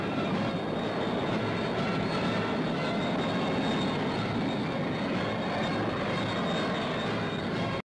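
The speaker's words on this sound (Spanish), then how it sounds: "111 aviones, entre reactores y polimotores, cruzan el cielo de Madrid" A steady, loud roar of 111 military jets and propeller planes passing overhead in a 1978 Spanish military parade over Madrid fills the whole stretch without a break.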